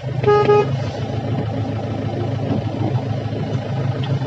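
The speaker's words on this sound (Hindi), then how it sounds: "दो बार हॉर्न दे देता हूँ" A Mahindra Bolero's horn gives two quick honks near the start while the engine idles on a roadside stop along NH34. Afterwards the steady idling engine rumble continues alone.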